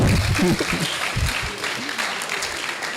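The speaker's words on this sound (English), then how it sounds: "Can we be clapping?" Audience clapping at a university debate championship, a broad wash of applause heard under a loud voice speaking at the start, the clapping carrying on steadily after the talk fades.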